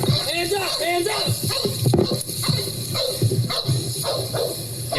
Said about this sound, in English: Yep, there's a dog.